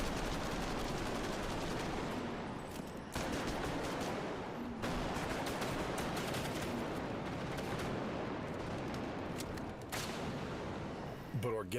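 Gunfire in the Bodycam video game rings out as dense, continuous bursts of shots echoing with long reverberant tails, loud and relentless, with a voice talking over the shooting.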